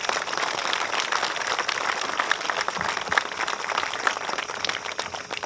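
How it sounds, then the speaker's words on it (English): A crowd gathered outdoors at the dedication of an art installation on a town common applauds its sponsors. The clapping is loud and sustained, with many hands forming a continuous patter and a few sharper claps standing out. "why don't we give them a round of applause"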